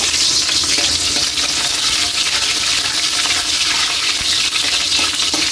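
Garlic frying in hot oil in a pan for pancit bato, a steady dense sizzle with crackling that stays loud and continuous throughout, no voices.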